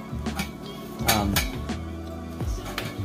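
Pots are handled in a resort room kitchen, knocking and clinking together in several sharp metallic hits, with scraping between them.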